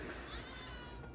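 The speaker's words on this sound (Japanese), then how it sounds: "猫と戯れ中。" A cat gives a brief, faint meow at a local sweets shop in Nankan, Kumamoto, heard over soft background noise.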